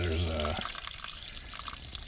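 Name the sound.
water flushing out of a repaired irrigation line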